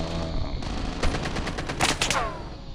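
Hip-fire gunfire in Call of Duty Mobile: a quick string of rapid automatic shots in two short bursts, fairly close and loud, with no talk over them.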